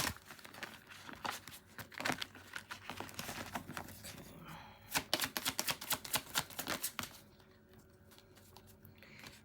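Tarot cards are shuffled close up, giving rapid papery riffles and flicks in uneven bursts, busiest in the middle, then quieter handling near the end.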